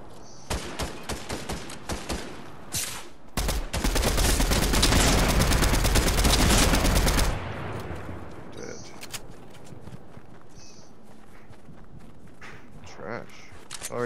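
Rapid gunfire bursts and shots in a Fortnite match, with a dense sustained volley in the middle, loud and close, surrounded by scattered single shots and footsteps while players talk over it.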